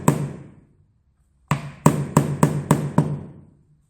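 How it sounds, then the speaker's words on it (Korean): Wooden parts are hammered together during furniture assembly. One faint knock is followed by six sharp, evenly paced hammer blows on wood, close and fairly loud with no talk. "그래서 망치질 할 때는 너무 세게 한꺼번에 힘을 가하지 말고 힘을 아주 작게 나눠서 망치질을 하세요."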